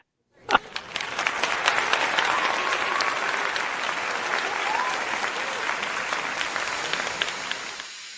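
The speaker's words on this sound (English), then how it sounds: "we got to get this brother a round of applause" A crowd bursts into applause with a sharp onset, then keeps clapping steadily and loudly for several seconds before stopping abruptly; a few cheers mix in.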